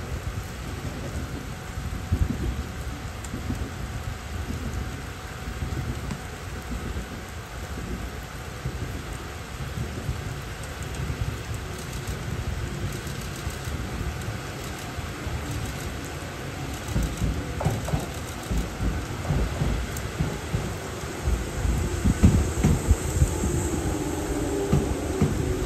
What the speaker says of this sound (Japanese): やっぱり雨がすごいですね。